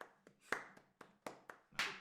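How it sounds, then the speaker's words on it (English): A short run of about seven sharp, irregularly spaced hand claps, close and fairly quiet, in the Sevilla football chant style. "I'll do a Sevilla clap."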